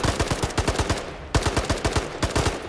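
Automatic gunfire from the zombie shooting video game Zombies War comes in two loud, rapid bursts of closely spaced shots, split by a brief pause, with no voices.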